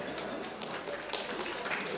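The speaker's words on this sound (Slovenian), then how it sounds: "Prosim za en aplavz, izvolite gospoda." An audience claps at a St. Martin's Day wine celebration, steady dense applause from a crowd indoors, with voices faintly mixed in.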